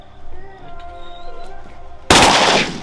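A shotgun fires a single loud, sharp blast near the end while hunting early-season wood ducks from a big blind over decoys, preceded by quieter outdoor rustling and murmured hunters' voices.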